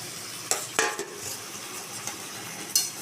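Marinated mutton and potatoes stir-fried in a pan, with a soft steady sizzle broken by several sharp scraping clatters of the stirring spoon, close by with no talk.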